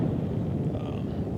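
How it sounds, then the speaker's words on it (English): Wind buffets a microphone outdoors at a Glock 17 Gen 5 shooting spot, a steady low rumble and roar that runs unbroken throughout. "And it is kind of windy."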